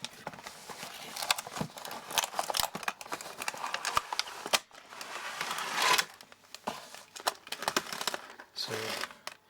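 Cardboard packaging and a plastic sleeve on a diecast model Ford Crown Victoria New York taxi are handled and opened up close, with sharp crinkles, rustles and clicks in irregular bursts and brief quiet gaps.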